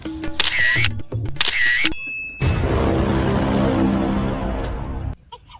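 A camera shutter goes off for a selfie: two matching electronic shutter chirps, loud and close, followed by a stretch of broad, rushing noise that ends abruptly.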